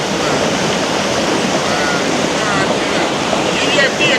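A river washing down over stones, a steady, loud rushing roar of water with a constant broadband wash throughout and no talking.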